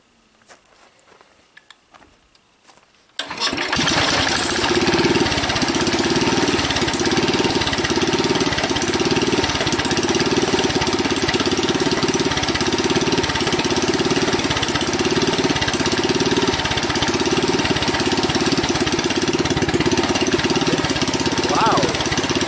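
An old Sears Super 12 garden tractor engine is quiet at first, then starts abruptly and settles into a loud, steady, slightly uneven idle with a rhythmic knocking pulse, running close by for the rest of the stretch.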